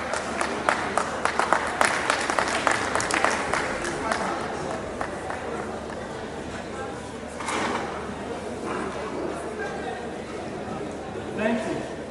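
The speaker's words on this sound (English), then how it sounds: "Please, let's appreciate the last clapping." Scattered clapping from a conference audience at a town-gown stakeholders roundtable, strongest at the start and fading into murmuring, shuffling and movement, with voices talking throughout.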